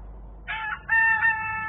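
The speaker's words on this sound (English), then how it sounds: "Chicken's cock-a-doodle-doodle-doodle." A rooster crows once, a clear, close, brief cock-a-doodle-doo in a couple of rising and held phrases over a quiet background.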